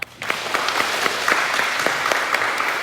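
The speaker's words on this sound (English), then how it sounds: "give these guys a round of applause" A crowd at a second grade awards ceremony applauds steadily, a dense wash of clapping with a few louder individual claps standing out.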